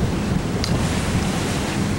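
Strong wind roars across the open deck of a Disney Cruise Line Fantasy ship steaming at about 19 knots, a loud, steady broadband rush with sea surge and microphone buffeting, unbroken and with no voices.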